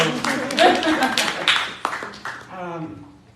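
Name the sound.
conference audience clapping for themselves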